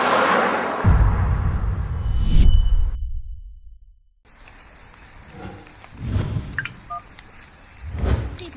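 Touch-tone keypad beeps of a phone dialing an outgoing call, a few short bright tones among rustling and handling noises, near and fairly clear.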